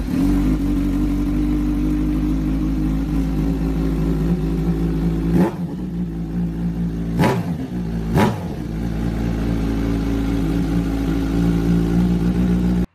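A Kawasaki Z1000 motorcycle engine runs at a loud, steady idle nearby, then gives three sharp throttle blips in quick succession before settling back to idle.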